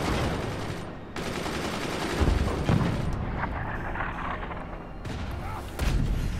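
Mortar fire in the video game Forts: booming blasts and crackling explosions that rise and fall in loud bursts over a dense, rumbling background.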